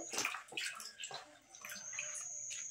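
Live snakehead fish dropped into water thrash and splash in short, irregular bursts. The splashes are close but fairly faint.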